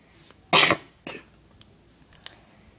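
One loud, close cough, then a softer second cough and a faint throat sound from a single person indoors, with quiet gaps between them.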